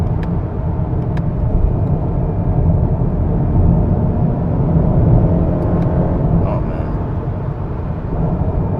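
A 2020 Honda Accord Sport with a direct-injected 2.0-liter turbo four-cylinder engine drones steadily from inside the cabin as it accelerates, a loud continuous low rumble with no talk over it.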